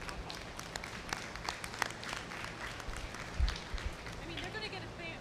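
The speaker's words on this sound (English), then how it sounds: "give all these exhibitors a big round of applause" Faint applause from the audience at a 4-H/FFA dairy show, a scattered patter of clapping under a speaker's voice throughout.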